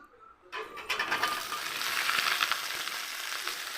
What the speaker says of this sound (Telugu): ఇప్పుడు బెండకాయ ముక్కలు వేస్తాను నూనెలో మాకనేస్తాను